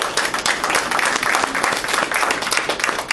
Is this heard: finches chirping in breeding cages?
no